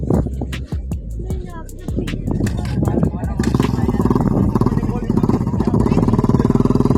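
A Yamaha Vision motorcycle, dug out after being buried half a meter deep in sand, idles and revs close by, its engine note steady and rising in the second half beneath clatter and several people talking.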